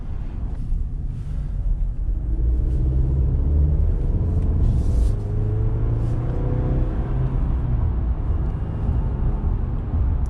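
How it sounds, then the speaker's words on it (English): A 2019 Chevrolet Silverado LT's turbocharged four-cylinder engine accelerates with a steady, loud rumble and rising engine tones, while a faint turbo whine sits in the background. "You hear a slight turbo spool or a little bit of a turbo whine as you're accelerating"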